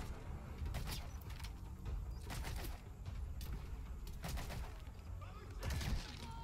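Scattered sharp gunshots ring out across a Metal Gear Solid V: The Phantom Pain firefight, several distinct cracks spaced a second or so apart over low background rumble, with a louder burst near the end.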